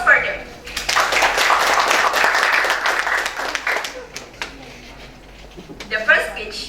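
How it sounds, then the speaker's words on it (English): Applause at the closing ceremony of an English public speaking course at UIN Alauddin Makassar, clapping building quickly and holding steady for several seconds before thinning out, with voices close by underneath. "Applause for them."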